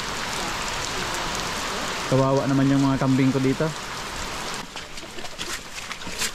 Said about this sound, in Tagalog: Grabing ulan.